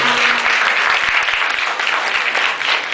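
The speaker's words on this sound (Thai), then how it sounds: "ขอเสียงปรบมือให้นักแสดงสองท่านด้วย" An audience applauds two performers at a stage show, with dense, loud, steady clapping throughout and no speech over it.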